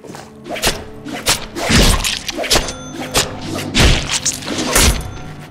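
Light and heavy melee attacks landing on goons in a Deadpool video game, a rapid irregular series of loud thuds and whacks with a few heavier impacts.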